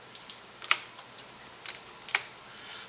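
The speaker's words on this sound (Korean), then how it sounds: "알파 있는 데를 컨트롤 키 눌러서 선택시켜요" Sparse, light key taps on a computer keyboard, including the Ctrl key being pressed, as a few separate close clicks with quiet gaps between them and no talking.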